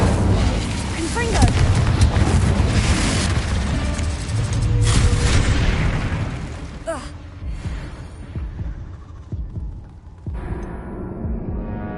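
In Hogwarts Legacy on PS5, a Confringo blasting spell explodes with a heavy, booming roar that surges and rumbles for several seconds, then fades into quieter combat noise, with voices and game sounds mixed in.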